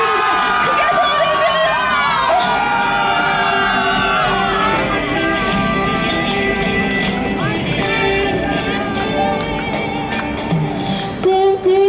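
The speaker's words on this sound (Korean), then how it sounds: "오늘 여러분들의 힘차고 멋진 함성 소리 한번 들어보고 싶습니다." Crowd at a women's emergency press conference cheering, whooping and shouting loudly and continuously, with shrill voices layered over steady roaring noise throughout.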